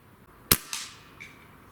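A single sharp shot from an Umarex Gauntlet PCP air rifle (.22 or .25 caliber), fired outdoors at targets, with a crisp crack followed shortly by a fainter impact and a brief faint ring afterward.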